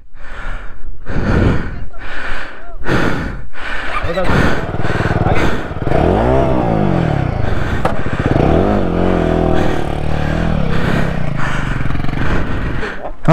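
A motorcycle on an off-road ride to Bolumalai Fort: after a few heavy breathy bursts, the engine catches and revs loud and close, its pitch sweeping up and down repeatedly before settling into a steady idle.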